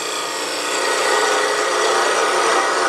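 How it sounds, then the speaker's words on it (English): A 3/8 inch spindle gouge faces off the end of a spinning wood blank on a lathe, giving a steady, close, continuous scraping hiss with no pauses or talk. "Using a 3/8 inch spindle gouge."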